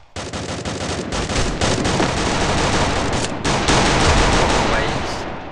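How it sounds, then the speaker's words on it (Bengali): Enemy gunfire in the video game Free Fire rattles in dense rapid bursts, loud and nearly continuous, with brief gaps between volleys. "এনিমি অনেক ফায়ার করতেছে আমাকে দূর থেকে,"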